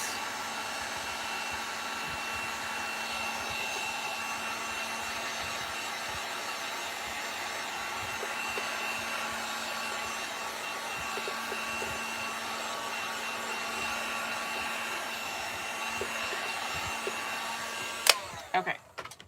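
A hair dryer blows steadily over a Dollar Tree Easter bunny sign craft, an even close whooshing hum lasting about eighteen seconds before it clicks off, with a few knocks at the end.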